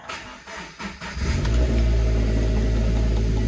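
A turbocharged Subaru BRZ / Toyota GT86 / Scion FR-S engine starting with a few cranking pulses, then settling into a steady, loud, low idle close by, with no talking.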